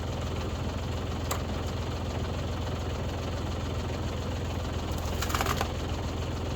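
A small engine on a County Line three-point wood splitter idling in a steady, even putter, with a couple of short metallic clicks over the constant running sound.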